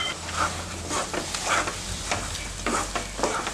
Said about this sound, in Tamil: இந்த மாதிரி அரைச்சி போட்டு ஒரு 5 நிமிஷம் கிளறிக்கிட்டே இருந்தீங்கன்னா இது வந்து நம்ம இந்த சட்டியில் ஒட்டாமல் வரும்.